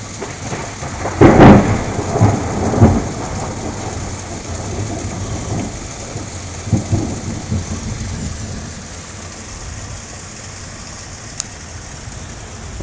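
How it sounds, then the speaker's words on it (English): Thunderstorm with steady rain pattering on surfaces and a rumbling thunder roll that peaks early, then fades under continuous rain hiss. "I think it's raining."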